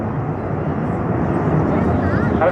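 Avro Vulcan Mk II bomber XH558 at an air show in Dunsfold, Surrey, giving a steady, loud, broad jet roar throughout, with people talking over it.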